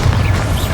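A short, loud booming burst from the Bombarda blasting spell in the video game Hogwarts Legacy, a single heavy blast lasting under a second.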